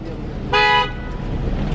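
A car horn gives one short, loud honk over steady traffic and road noise.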